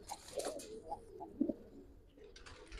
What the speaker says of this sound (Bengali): মাদিটা উঠতি কবুতর